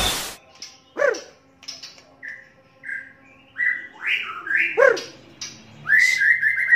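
A Sabang white-rumped shama (murai batu) sings a loud, varied song of clear whistles, rising and falling slurs and sharp chirps, delivered in quick phrases close up with no talking.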